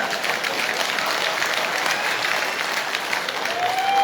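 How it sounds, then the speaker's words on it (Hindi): An audience at a live poetry gathering in Rudrapur breaks into sustained applause, a dense, even wash of many hands clapping at steady loudness throughout. "बस इतनी तालियां बजनी थी।"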